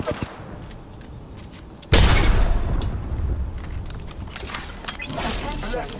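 A frag grenade detonates in Apex Legends with a sudden loud boom at about two seconds, then a rumbling tail of gunfire and battle noise. Scattered shots and effects are heard before the blast.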